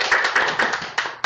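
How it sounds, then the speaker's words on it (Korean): Brief audience applause at a forum discussion session, a handful of close, separate hand claps in a short uneven burst, with two sharper claps near the end. "네, 이럴 때 박수 한번 좀 주시죠."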